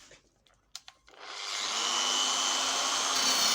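Power sanding of a car or truck headlight lens, a steady broadband whir that kicks in after a few short knocks and clicks and then runs loud and continuous close by, with no talk.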